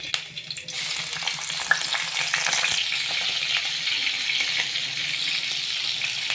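Green chillies drop into hot oil and fry with a loud, dense, steady sizzle that flares up abruptly after a quiet moment and carries on evenly with light stirring, close by and without talk.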